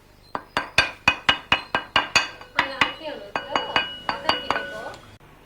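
Cooking pots and dishes clink against each other in a quick, steady run of about twenty sharp metallic strikes, close and clear, each ringing briefly before the next.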